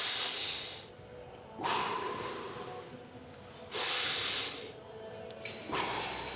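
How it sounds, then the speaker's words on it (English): Slow, deep breaths drawn into the stomach during a back-pain exercise, heard as three long soft airy inhales and exhales, close and quiet with no talking. "We breathe into the stomach."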